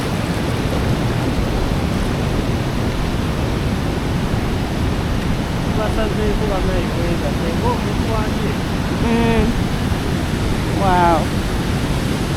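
Busowoko Falls near Jinja, Uganda rushes with a constant, dense roar of falling water, while several voices speak and exclaim over the steady noise.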